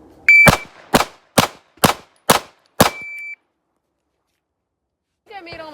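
Six sharp pistol shots in a shooting drill crack out in quick succession, evenly spaced and loud, each followed by a short decay, with an electronic timer beep at the start and end.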